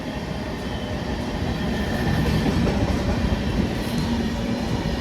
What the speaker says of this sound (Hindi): ये लो जी, ये ट्रेन गई